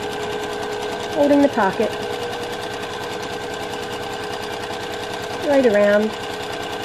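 A sewing machine stitches around a fabric pocket on a drawstring jewelry travel pouch, running in two short bursts separated by a pause, heard under steady talk throughout.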